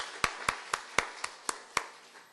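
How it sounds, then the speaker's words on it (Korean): Applause from a church congregation in Osaka giving thanks during a service, heard as seven sharp, evenly spaced claps in a quiet room that sound like one or a few pairs of hands, close and distinct. "感謝の拍手を捧げましょう。"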